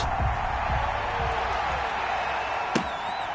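A PS4 American football game's stadium crowd, Patriots versus Bills, gives a steady roaring cheer throughout, broad and distant, with a sharp slam near the end.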